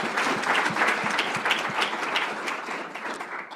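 A room of people at a weekly meeting applauds after an answer, steady full clapping from many hands that carries throughout and tapers slightly at the end.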